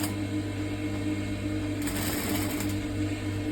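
A sewing machine stitches a plunging yoke neckline with a steady mechanical whir. Its hum and rattle stay even throughout, with a brief brighter burst partway through.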